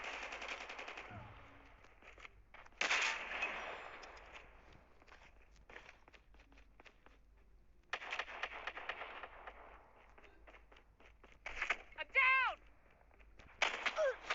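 Gunfire in the mobile game Call of Duty Mobile during a team match: sharp game shots and automatic bursts plus footstep sounds, coming in scattered clusters under a player's Turkish talking.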